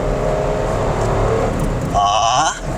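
A 2024 Suzuki S-Presso with a three-cylinder engine accelerates on a mountain road to Baguio, a steady loud engine drone from inside the car that rises in pitch near the end.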